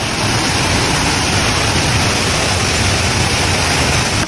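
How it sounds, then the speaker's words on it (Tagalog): A small waterfall by a lake at Kidapawan, pouring steadily into a jacuzzi-like pool, with a loud, continuous broadband rush of falling water and no talk. "Mini waterfall."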